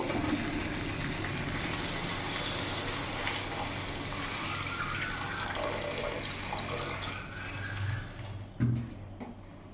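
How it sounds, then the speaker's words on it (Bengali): Water pours into a pan of fish curry, a steady gushing splash over a faint sizzle that tapers off, followed by a few clunks at the end. "এবার এর মধ্যে আমি জল দিয়ে দেবো।"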